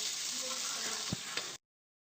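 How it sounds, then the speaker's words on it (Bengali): Water poured into a Bengali potol and paneer curry frying with spices, a loud close sizzle and hiss with a couple of brief bubbling pops before it cuts off abruptly. "আমি এখানে 3 কাপ পরিমাণ জল দিচ্ছি।"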